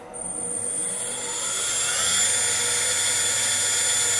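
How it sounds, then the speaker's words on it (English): The spindle of a PrintNC CNC machine starts up and ramps to speed, a rising whine that settles into a smooth, high, steady tone close by, with no voices. "So here's our spindle start."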